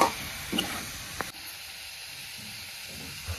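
A drumstick (shevga) stir-fry with a little salt is mixed in a pan: a faint, steady sizzle with a few soft scrapes and clicks of the spoon against the pan.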